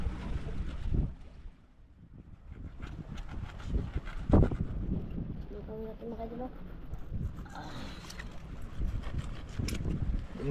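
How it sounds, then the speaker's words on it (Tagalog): Strong wind gusts buffet the microphone on an island shore during rain and rough weather, a loud rumbling roar with splashes of water while someone talks over it. "Tingnan tayo sa malalim mga idol kay masyadong mahangin tsaka may ulan."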